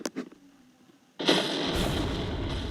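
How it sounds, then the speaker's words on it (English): A tank's machine gun fires in a video game: after two short early pops and a quiet gap, a loud burst erupts and sustains as continuous rattling gunfire to the end. "This machine gun's impossible to use."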